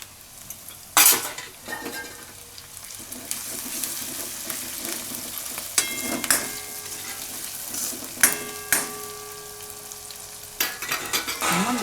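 Onion and grated ginger fry in oil, stirred in a pan: a close crackling sizzle with metal spoon clinks and scrapes against the pot, a few louder knocks punctuating the hiss.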